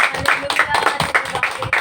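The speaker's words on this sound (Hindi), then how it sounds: "एक जोरदार ताली हो जाए यीशु के लिए।" A church congregation at an Easter service claps for Jesus in quick, steady rhythmic applause, with a voice speaking over the clapping.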